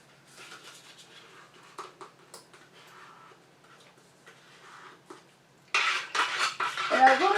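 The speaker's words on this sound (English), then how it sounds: "I'm going to stir in my honey" Spoon stirring honey into a homemade aloe vera comfrey lotion, giving soft scattered clinks and scrapes against the container that grow louder and busier near the end.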